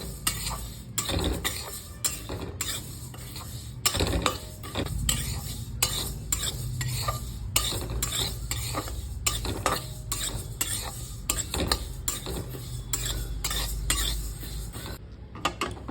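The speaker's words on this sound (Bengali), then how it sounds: "এক বাটি মুগ ডাল ভালো করে ভেজে নেব" Moong dal frying and being stirred in a pan for a fish-head moong dal dish, with steady scraping and frequent metallic clinks of the spoon against the pan, continuous and close with no talking.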